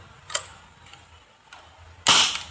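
Shots from an AR15 Viper gun firing 8mm steel balls: a light snap early, a fainter click later, then one loud sharp pop near the end, with no talk over them.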